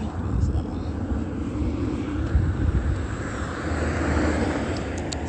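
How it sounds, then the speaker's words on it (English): Low, steady rumble of a propeller airplane passing overhead, continuous and moderately loud with a reverberant wash, heard from a street where patrolling activity is underway. "That is amplified plane activity."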